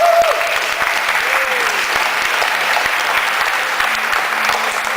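An audience at a national high-school debate tournament breaks into steady, loud applause for a visiting Edmonton team, with continuous clapping throughout.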